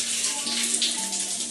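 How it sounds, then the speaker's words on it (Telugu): A steady stream of water pours from the tap of a freshly installed water heater, a close, unbroken hiss-like rush lasting the whole brief moment. "వాటర్ వదులుదాం."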